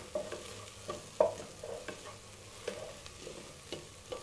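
Onions fry in a pan for omushenye, a traditional Luhya dish. A soft, steady sizzle runs under repeated stirring clatter, with small knocks coming every second or so, close by and with no talk.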